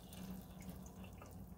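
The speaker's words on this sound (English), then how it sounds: "We should see water coming out of the bottom of the containers." Warm water drains and trickles out of the bottoms of seed-starting containers indoors, a soft continuous dribbling and splashing, faint and close, with no talking.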